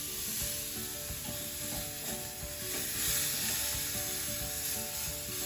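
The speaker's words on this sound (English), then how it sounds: "The Sizzle." Rump steak sizzling on a hot grill, a steady crackling hiss that runs loud and close through the whole stretch with no voices over it.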